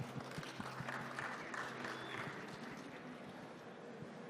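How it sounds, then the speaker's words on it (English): An audience applauds a panel of speakers at a conference session with steady, moderately distant clapping that holds at an even level throughout. "please give them a big round of applause"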